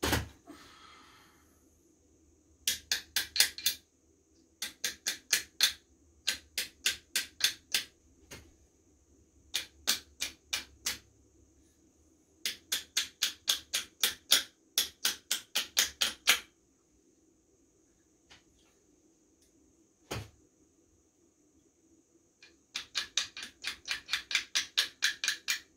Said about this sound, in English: we're just knocking that pin back into place with a bit of force